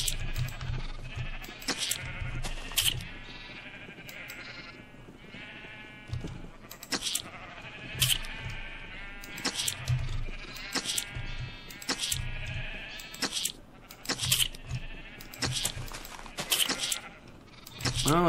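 Repeated sheep bleats from a Minecraft flock ring out alone, several wavering calls spread at irregular intervals over game ambience, fairly clear and close.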